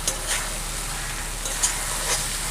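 Prawns and onions sizzle steadily in a hot pan for a curry with taro stolons, a constant frying hiss broken by a few soft stirring scrapes.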